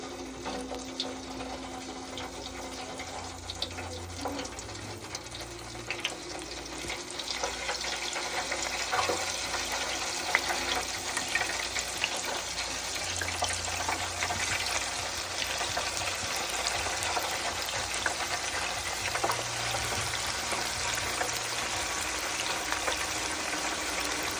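Wet-batter chicken tenders fry in hot oil, giving a steady crackling sizzle that swells louder after the pieces go in and then holds at a constant bubbling hiss, with no talking.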